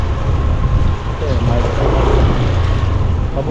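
Gusty wind roars loud and steady, buffeting the microphone with low rumbling, at a roadside in the Philippines where a path is being cemented; someone talks over it.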